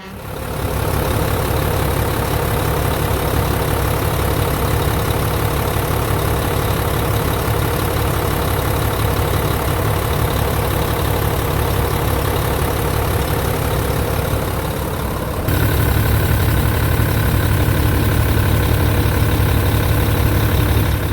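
A Volvo truck engine with a surge fault runs loud and close as a steady, heavy rumble that shifts up to a higher rev partway through and then holds there, with no talking.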